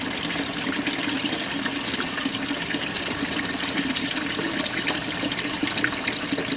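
Water pours steadily into a GE washing machine drum as it fills, a constant, close gushing rush with no breaks.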